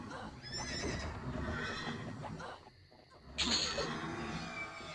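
Horses in the EverQuest video game neigh and whinny in several loud, shrill calls, with a brief quieter gap before another sharp whinny near the end.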